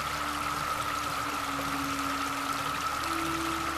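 A stream in Kentucky's Red River Gorge flows in a steady, close rush of water with no pauses and no voices, a smooth wash of sound from start to finish.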